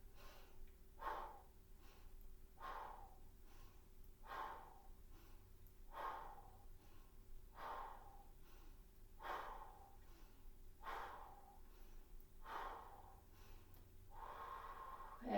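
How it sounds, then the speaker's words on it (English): Rapid fan-the-fire qigong breathing, a series of about eight sharp, forceful breath bursts spaced roughly every one and a half seconds, close and clear with no talking. "alternating between deep abdominal breathing and fan the fire breathing"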